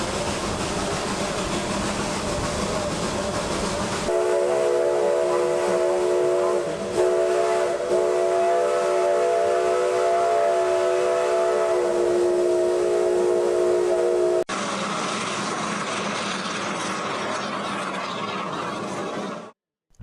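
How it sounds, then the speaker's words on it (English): A steam locomotive labours up a steep grade through forest, its long, loud, steady whistle blowing for about ten seconds over a constant chugging rumble. "The locomotive is working hard. We're on a steep grade here."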